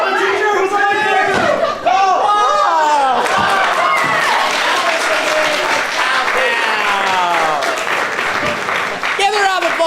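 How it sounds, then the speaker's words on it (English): An improv comedy show audience applauding and cheering loudly and steadily from start to finish, with voices shouting over the clapping. "Give her a round of applause."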